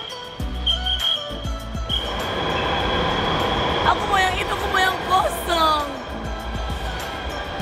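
A Jakarta MRT metro train rumbles along the track with a steady roar, then wheels squeal and a high tone sounds as it moves, and voices talk over the noise in the carriage.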